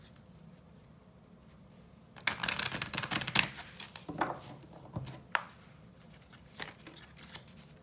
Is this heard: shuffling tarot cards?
yes